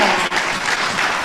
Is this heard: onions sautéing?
no